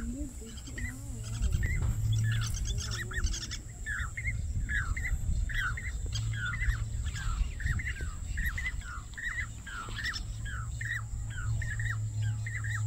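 Pied cuckoos, also called Jacobin cuckoos, call outdoors in a rural locality, giving repeated sharp, ringing notes in quick phrases over steady background hum and other bird chatter, fairly close and clear.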